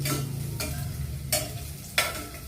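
Onion and garlic sauté in a pan for a mung bean and longganisa dish. A spatula scrapes in regular strokes about every half second or so over a continuous close sizzle.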